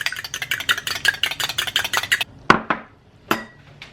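A big metal fork clinks and scrapes repeatedly against a baking dish holding golden-brown sweet bread, a rapid run of close, bright clatters that breaks into a few isolated clinks near the end.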